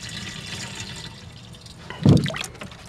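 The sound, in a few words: rainwater being poured into a jug with fertiliser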